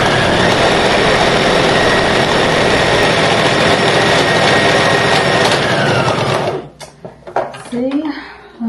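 A sewing machine running fast and continuously while stitching abaya sleeves, with a steady close mechanical whir that stops abruptly near the end, followed by a few brief clunks and rustles.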